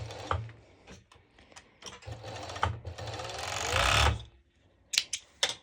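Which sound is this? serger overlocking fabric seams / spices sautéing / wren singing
serger overlocking fabric seams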